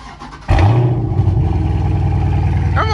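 Dodge Charger SRT 392 V8 firing up on a warm start, a sudden loud catch followed by a rising rev and settling into a deep, rumbling idle close by.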